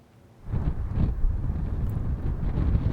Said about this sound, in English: And listen to those howling winds.